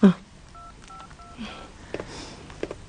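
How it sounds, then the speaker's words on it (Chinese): A telephone keypad sounds a quick run of short dialing tones, three or four beeps in a row, followed by faint handling noise and a brief voice in an indoor drama scene. "我打个电话。"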